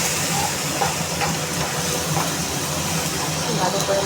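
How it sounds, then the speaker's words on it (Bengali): A paste of ground onion, ginger, tomato and garlic fries in oil, giving a steady, close, broadband sizzle and hiss that stays level throughout without pause. "আমি তেলের মধ্যে দিয়ে দেবো মশলাটা। মশলাটা দিয়ে ভালো করে আমি একটু কষিয়ে নেব।"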